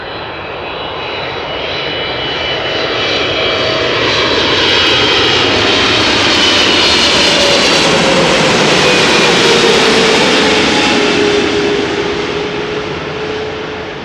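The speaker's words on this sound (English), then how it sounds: "We have another 777 freighter coming in, Qatar Cargo, arriving from Doha." A Qatar Cargo Boeing 777 freighter arrives at Amsterdam Schiphol, its jet engines building into a loud, close roar with a falling whine as it passes overhead, then slowly fading, heard alone without voices.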